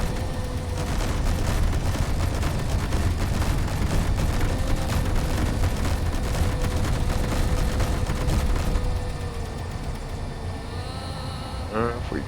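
Continuous dense rumbling gunfire in the space game Space Engineers, a loud sustained barrage lasting several seconds before easing off, with a voice speaking over it.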